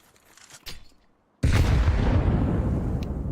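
A grenade explodes in a Counter-Strike match. After a quiet moment with soft background sounds, a sudden loud, booming blast hits and its broad rumble lingers, slowly fading to the end.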